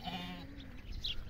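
A goat gives one short, close, quavering bleat at the start, then fades into a low outdoor background.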